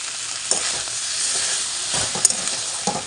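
A curry of ginger-cumin paste, green chilli, turmeric, salt, sugar and tomato sizzles steadily in a pan for a mild taro stew. Dense bright frying hiss runs throughout, with a few soft stirring knocks.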